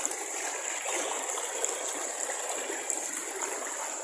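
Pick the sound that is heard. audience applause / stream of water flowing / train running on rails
stream of water flowing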